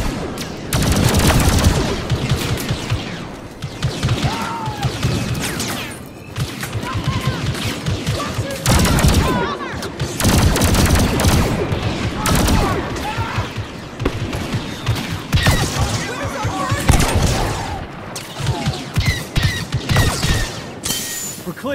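Blaster gunfire against Imperial troops in the Star Wars Battlefront II video game, loud rapid bursts and volleys with booms, intermittent talk between exchanges.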